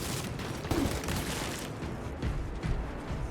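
Bursts of heavy sci-fi bolt pistol gunfire in Space Marine 2 crack in quick succession over a dense, rumbling background, with a couple of louder shots standing out.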